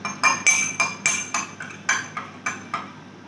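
About ten sharp glassy clinks in a fairly even rhythm, close and bright, as detergent is stirred into a coloured solution in a glass during a school science demonstration.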